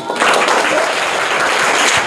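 Loud, dense applause from a quiz competition audience after a correct general-knowledge answer, steady clapping filling the whole stretch with no talking.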